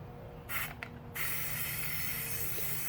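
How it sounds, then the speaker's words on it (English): Super 77 spray adhesive sprayed from an aerosol can onto a scroll saw pattern, two short hissing bursts close by, then a quieter steady hiss over low room noise. "And we'll use the spray adhesive."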